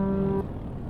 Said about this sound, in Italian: Spero sembra più un clacson di una nave